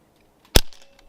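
A Barra 1100Z .177 PCP air rifle fires a single pellet, a sharp, loud crack close by that fades quickly, with a short softer tail after the shot.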